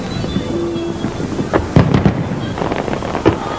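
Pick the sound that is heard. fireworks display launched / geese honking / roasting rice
fireworks display launched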